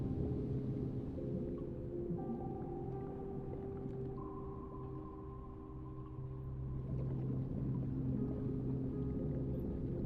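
A submarine in the game UBOAT gives off a steady, low engine drone and rumble. Faint tonal hums rise and fall over the drone. It continues alone at a quiet level with no talk.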